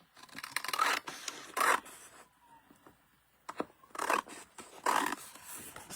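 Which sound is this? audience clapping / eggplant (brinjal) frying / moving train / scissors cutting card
scissors cutting card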